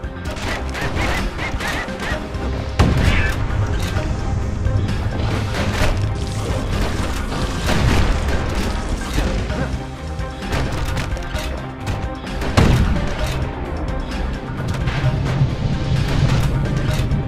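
Dense, continuous barrage of gunfire and crashing impacts from security skiffs in the video game Bastion, loud throughout with sharper booming hits standing out, no talk over it.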